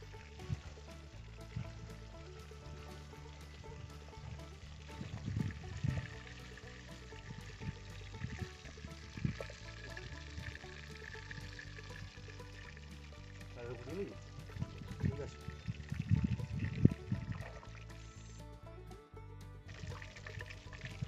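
Fish heads fry in oil with a soft, continuous sizzle, fairly quiet and at times masked by someone talking and occasional pan knocks.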